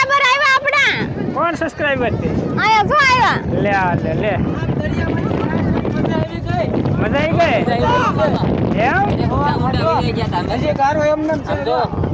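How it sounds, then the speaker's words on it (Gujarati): Heavy sea-shore wind buffets the microphone with a continuous low roar while people talk loudly over it. "પવન બહુ છે એટલે અવાજ ઓછો આવશે અમારો"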